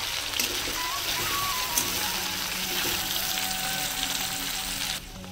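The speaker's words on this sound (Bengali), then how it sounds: "চিংড়ি মাছগুলোকে আমি একটু হালকা করে ভেজে নেবো" Shrimp frying lightly in hot oil while cabbage is being cooked, giving a steady, close sizzle that holds at a constant level with faint crackles and no voices, then drops off briefly near the end.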